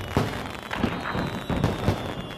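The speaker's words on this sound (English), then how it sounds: "Or go down to the lake for 4th of July fireworks." Fourth of July fireworks by a lake in a Toyota advert, a few scattered pops and crackling bursts, fairly soft and distant.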